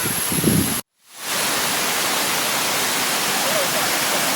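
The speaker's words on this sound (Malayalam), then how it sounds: "ഒരു ചെറിയ വെള്ളച്ചാട്ടം." A small waterfall beside a road gives a steady, close rush of falling water, a dense even roar that cuts out for a moment near the start and then resumes unbroken.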